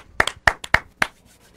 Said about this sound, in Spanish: Un aplauso bien fuerte y nos vamos.